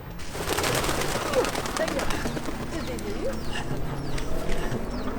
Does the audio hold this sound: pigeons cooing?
yes